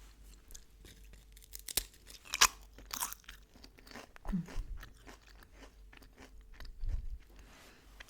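Crunchy bites and chewing of soft-cheese-flavored chips from Egypt, heard up close with sharp cracks followed by softer munching and faint rustles, no talk.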